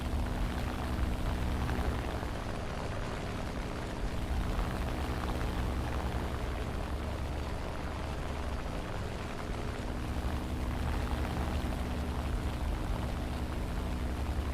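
A P-51 fighter plane approaching in the combat flight game War Thunder, a continuous broadband engine and propeller roar filling the scene, steady and fairly loud without talk.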